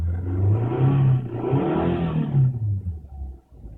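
A Nissan QR20DE engine revving while cold, rising and falling in a steady mid-pitched drone, then dropping back toward idle, close and fairly loud with no talk.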